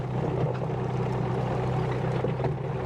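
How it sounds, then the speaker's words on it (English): A SANY SY26U mini excavator turning around and driving through woods, a steady low engine drone with faint track clatter, continuous and fairly close. "Get the excavator turned around here."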